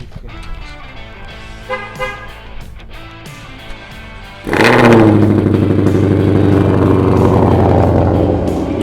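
After a few seconds of clicks and clatter, a Ford Econoline van engine cold-starts, firing up loudly and roaring into a sustained high-revving idle, close by.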